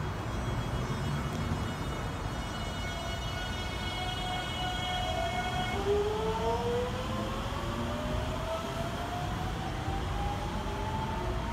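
A JR Series 211 electric train passes near a station in the port town of Shimizu at dusk, its motor whine rising steadily in pitch over a constant loud rumble, with no talk.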